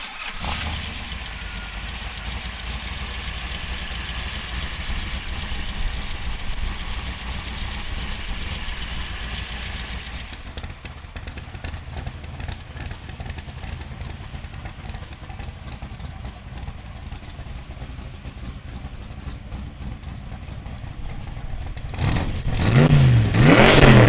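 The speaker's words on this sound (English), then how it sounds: "So come on up and we'll fire it up for you right now." A 1965 Shelby Cobra Backdraft, a South African–built replica, idles with a steady, loud engine rumble for some twenty seconds, then revs up sharply near the end.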